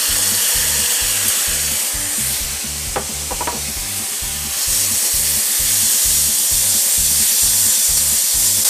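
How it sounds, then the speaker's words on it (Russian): Marinated meat fries in an oiled wok over maximum heat, a loud continuous sizzle with rhythmic scraping and stirring strokes from a utensil, no talking. "это мяско жарится очень-очень быстро. На максимальном огне."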